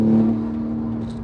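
A 900bhp Porsche Turbo engine pulling hard on a night drive, a loud, steady droning engine note with a strong low hum, heard briefly and alone.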